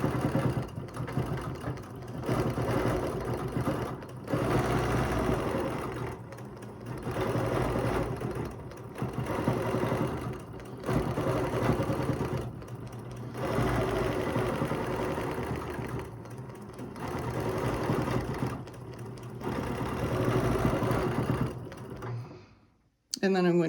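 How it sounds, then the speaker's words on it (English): Longarm sewing machine stitching a quilt, running in repeated bursts of rapid mechanical whirring separated by short pauses, close and steady, ending abruptly. "And I'm going to stitch one more."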